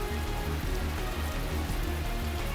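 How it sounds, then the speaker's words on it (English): Rain in a video game growing heavier, a steady, dense hiss of drops filling the whole stretch at a constant loud level, with a low rhythmic pulse underneath. "The rain slowly intensifies."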